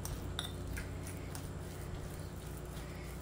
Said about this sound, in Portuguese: Vamos fazer a misturinha do ovo.